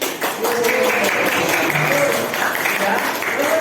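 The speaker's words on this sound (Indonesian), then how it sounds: "Kita berikan tepuk kereta api untuk Galuh" A school class gives a student a rhythmic 'train clap', loud rapid clapping from many hands mixed with children's voices and chatter in a classroom.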